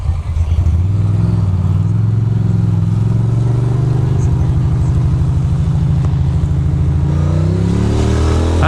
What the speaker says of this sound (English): I don't understand why there's so much traffic on this street.